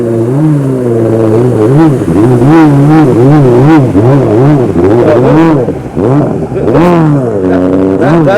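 Jet ski engine warming up at a race in Llano, Texas, its loud pitch rising and falling in repeated revving surges, close and continuous throughout.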